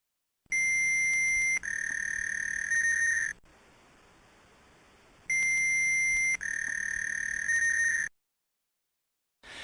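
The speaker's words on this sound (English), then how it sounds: "You may hear a dial tone at this stage." Steady electronic tones hold at a fixed pitch in two long bursts separated by a quiet gap, a telephone line's dial tone from a 2002 dial-up internet connection.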